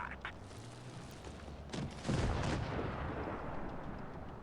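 A single heavy cannon shot from a French ARL V39 tank destroyer in WOT Blitz, a sudden deep boom that rolls into a lingering rumble after a quieter lead-in.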